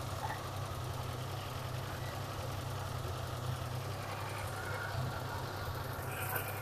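A car engine idles quietly and steadily with a low, even hum and no revving, during a check of a car battery that keeps running flat.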